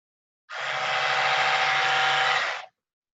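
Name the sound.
electric toothbrush humming and buzzing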